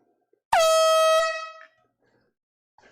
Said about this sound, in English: I'm gonna go ahead and blow the air horn for emptying the crate.